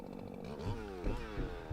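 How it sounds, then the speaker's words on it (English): A chainsaw cuts a 10-foot log from a felled tree outdoors, its engine snarling steadily at close range with slight pitch shifts as the chain bites into the wood. "So now I'm cutting my second 10-foot log out of this tree"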